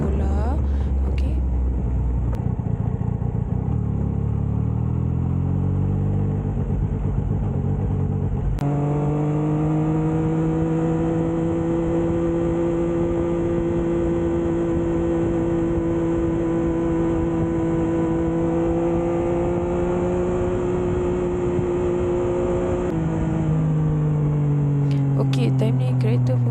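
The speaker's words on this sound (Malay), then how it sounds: "time ni kereta pun dah mula banyak sebab orang nak pergi kerja pada awal pagi" Riding a motorcycle through early-morning commuter traffic on the way to the airport, a steady engine drone holds for a long stretch amid a continuous road rumble, with passing cars blending into the wash.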